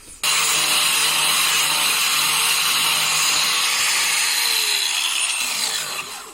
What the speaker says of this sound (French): avec la meuleuse pour rendre le truc super beau